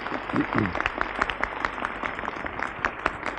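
Light audience applause during a 1978 Turkish TRT studio broadcast, a steady patter of hand claps that carries through the clip, with a voice speaking briefly near the start.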